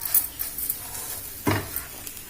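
Okra frying in a pan while being stirred, giving a low sizzle with scraping clatters from the utensil and one louder scrape partway through.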